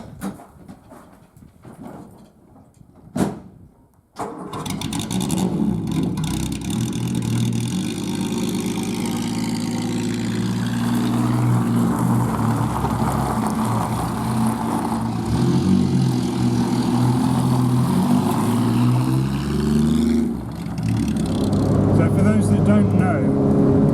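Triumph GT6 sports car under way, a steady engine drone with gear changes and revving after a few seconds of handling noise, sustained and near, with a voice speaking over it.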